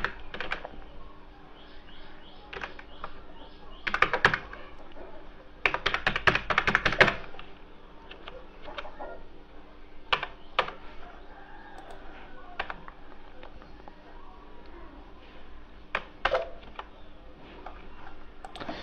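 Computer keyboard typing as card details are entered on a payment form, coming in scattered bursts of clicky keystrokes with quiet gaps between them, close and moderately loud, with no talking.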